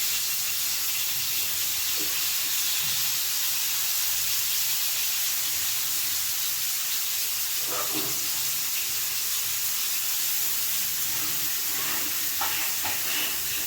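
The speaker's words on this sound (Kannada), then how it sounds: "ಮ್ಯಾರಿನೇಟ್ ಮಾಡಿ ಇಟ್ಕೊಂಡಿರ್ತೀವಲ್ಲ ಅದನ್ನು ಈ ಥರ ಶಾಲೋ ಫ್ರೈ ಮಾಡ್ಕೋಬೇಕು" Marinated raw plantain pieces shallow frying in a pan for a plantain curry: a steady, even sizzle with a few soft pops and crackles scattered through, close by and without any talk.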